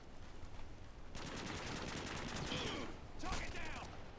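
FAL rifle hip-fired in Modern Warfare 2, two loud bursts of rapid repeated shots over a constant rumbling game background, with a pause between them.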